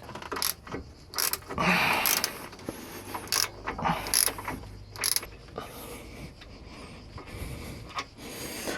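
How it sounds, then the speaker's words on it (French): Ratchet wrench working a brake caliper bolt on a Seat Leon TDI 150 during a Brembo brake kit install: sharp, irregular metallic clicks and scrapes in close bursts over a quiet background, with no talk. "une fois que c'est débloqué, je peux utiliser un simple cliquet"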